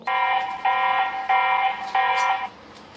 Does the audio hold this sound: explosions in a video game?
no